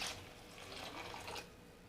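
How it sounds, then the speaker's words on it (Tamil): Water poured into a simmering tamarind lake-fish curry, a quiet continuous splashing and trickling that swells briefly in the middle, with no voices. "புளி திக்காக இருக்கிறதுனால நான் கொஞ்சம் தண்ணி விட்டுக்கிறேன்"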